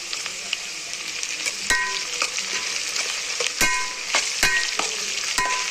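Ginger paste frying in a pan, a steady sizzle broken by sharp metallic clacks and scrapes of a spoon stirring against the pan at irregular intervals.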